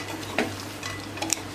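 Dates mixed with dry-roasted almonds, cashews and walnuts stirred in a kadhai over a low flame, a brief light scraping and a couple of small utensil ticks against a faint background hiss.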